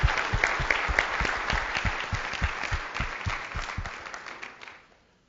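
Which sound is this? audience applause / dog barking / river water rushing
audience applause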